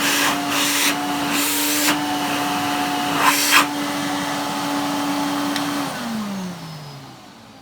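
A Hoover vacuum cleaner motor whirs with a steady high-pitched whine, loud and close, with a few bursts of airy rush, then winds down and its pitch falls near the end.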